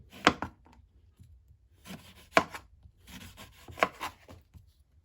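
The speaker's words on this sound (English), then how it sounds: "The next step, I'm going to slice one of the lemons." Knife slicing through a lemon on a cutting surface: three or four crisp cutting strokes with soft scraping between them, close and fairly quiet.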